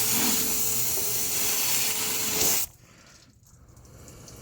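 Black Magic engine degreaser sprays onto a car engine in a loud, steady aerosol hiss lasting a few seconds, then stops abruptly, leaving quiet background.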